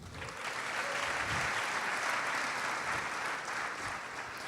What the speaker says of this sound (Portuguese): Aplausos para o Lucas, gente.